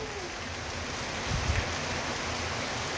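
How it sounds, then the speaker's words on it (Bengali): Steady, dense rain pours down continuously, a heavy wash of hiss with a few duller thuds midway, no voices. "ঠিক সেই সময় বৃষ্টি শুরু হলো বৃষ্টি মানে মুষলধারে বৃষ্টি"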